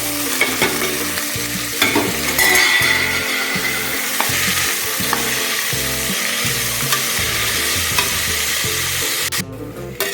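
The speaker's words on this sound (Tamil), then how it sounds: "தக்காளியை வந்து ஆட் பண்ணிவிட்டு நல்லா வதக்கிக்கலாம்" Onions and tomatoes sautéing in a pan for a chickpea kurma, a steady close sizzle broken by repeated rhythmic stirring scrapes, with no voices.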